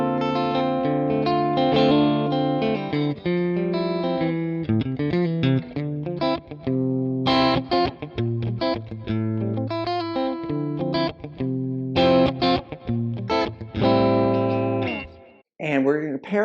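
A PRS SE CE 24 bolt-on electric guitar on its in-between pickup setting plays a run of clear picked notes and chords through an amplified, slightly effected tone, with a brief pause near the end.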